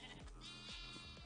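A baby goat bleats in a zoo video game, a short wavering cry repeated a few times in quick succession, faint and alone.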